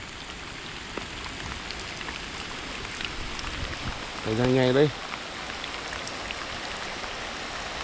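Steady rain falls outdoors at night during a hunt for frogs, a dense even patter throughout, with a brief mechanical warble midway and a voice speaking over it.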